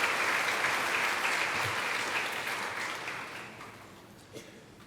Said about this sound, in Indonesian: Kita kasih aplaus untuk tim KOR kita.